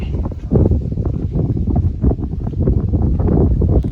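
Strong wind at a mountain overlook on the Appalachian Trail buffets the microphone with a loud, continuous low rumble and gusty roar, with no talking.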